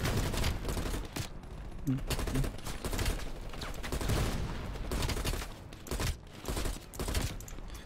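Gunfire in Call of Duty: Black Ops Cold War rattles on in dense, loud bursts and fusillades with little pause, and a voice talks over it now and then.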